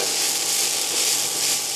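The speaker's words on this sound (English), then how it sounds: "I'm going to go ahead and add in our mushrooms. And now move these around to coat them in oil also." Mushrooms and onions sauté in hot oil as they are stirred in a pan, giving a loud, steady, close sizzle that hisses without a break and has no talk over it.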